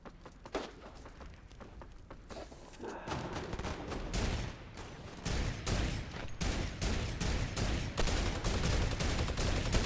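Gunfire from the video game Fortnite in a Team Rumble match, dense bursts of rapid shots and fusillades that build in intensity, with occasional footsteps underneath and no talking.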